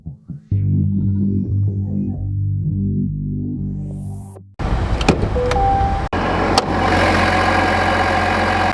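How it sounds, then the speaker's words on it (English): A 2026 Chevy Silverado Rally Edition's 3-liter turbo diesel runs loud and close, a steady idle rumble; partway through the character shifts abruptly with brief clunks and a rising whine. "Under the hood is a 3-liter turbo diesel that goes through a 10-speed."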